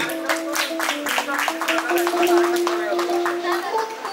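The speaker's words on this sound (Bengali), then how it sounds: "সকলে মিলে জোরে করতালি দিই।" An audience at a one-year celebration event claps in a loud, steady burst of overlapping hand claps, with sustained musical tones and voices running underneath.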